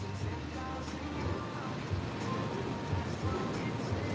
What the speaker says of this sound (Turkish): Tabi dalgalar biraz yükselince böyle e, tam sınıra kadar geliyor dalgalar